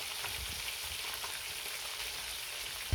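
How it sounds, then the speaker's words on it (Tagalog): Lapu-lapu (grouper) fish frying in hot oil: a steady, soft hiss and crackle of sizzling fills the whole stretch, fairly quiet and even, with a brief louder bump at the very end. "Iprito na natin."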